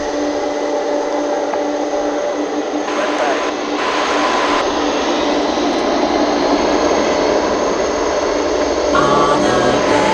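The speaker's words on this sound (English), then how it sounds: "As this MD-11 gets ready to blast off for Louisville." A UPS McDonnell Douglas MD-11 cargo jet spools up for takeoff on a runway at DFW, its loud, steady broadband engine roar filling the whole stretch with a dense, sustained rumble and whine.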